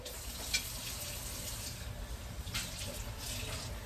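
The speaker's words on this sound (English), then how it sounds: "So let's add some water." Water pours into a pot while pork soup with green banana is being cooked, a steady hissing, splashing stream that runs through the whole clip at moderate level, a little louder in bursts.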